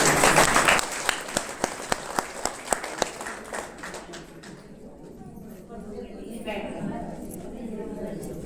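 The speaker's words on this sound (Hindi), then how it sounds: "ताली बजाओ।" A group of people claps in a steady rhythm, with about a dozen sharp, loud claps that then give way to a quieter murmur of voices and background noise.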